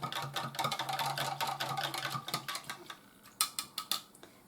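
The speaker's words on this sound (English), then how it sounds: "Give that one more stir." A spoon stirs a creamy scalloped potato mixture made from dehydrated potatoes, producing quick rhythmic scraping clicks against the dish that become sparser and more separated toward the end.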